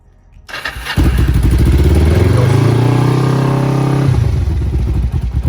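A 2009 Kawasaki Ninja 500R, fitted with a new choke and fresh spark plugs, fires up on a cool day of about 50 degrees and settles into a loud, steady idle close by, with no talking.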